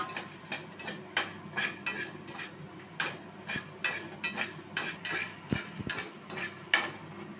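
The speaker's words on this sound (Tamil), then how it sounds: "மிளகு, ஜீரகம் எல்லாம் வறுத்துக்கிறோம்." Black pepper and cumin dry-roast in a pan, with a utensil scraping and tapping against the metal in a quick, uneven rhythm of light clicks and clatters, close and fairly quiet.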